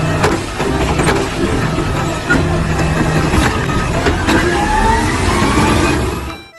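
A toy garbage truck runs with a continuous rattling, whirring mechanical rumble, loud and close, carrying small clicks and a rising motor whine near the end before it cuts off.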